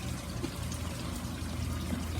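Water flows steadily out of an aquaponics sump into the bottom fitting of a radial flow filter, a constant low rushing trickle, fairly faint and continuous with no talk.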